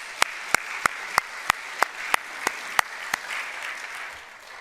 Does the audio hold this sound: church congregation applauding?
yes